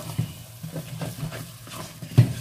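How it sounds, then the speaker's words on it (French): A wooden spoon scrapes across the bottom of a pan of rice cooking in tomato sauce, giving soft, irregular scratchy strokes with a firmer scrape near the end, fairly close and alone. "je peux prendre ma cuillère en bois, bien venir gratter en bas"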